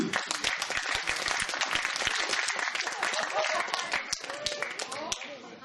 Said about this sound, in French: Merci d'applaudir les E.